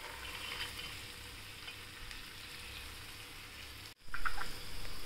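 Sprouted green gram frying in a hot pan, a steady close sizzle that cuts out briefly near the end, then returns louder with a sharp burst as more goes in.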